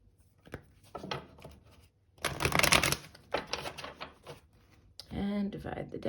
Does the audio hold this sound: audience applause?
no